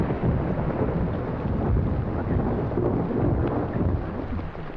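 Heavy rain pours steadily with a low rolling rumble of thunder underneath, a dense continuous wash of sound with no voices.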